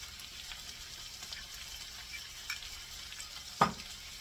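Coconut oil sizzling in a pan with a soft, steady frying hiss and occasional small pops and scrapes, including one sharper crackle near the end.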